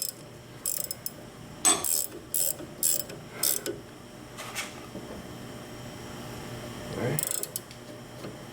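A hand ratchet clicking as it loosens bolts on a Mazda Miata differential in a garage, several short bursts of rapid pawl clicks separated by pauses, fairly close over a steady background hum.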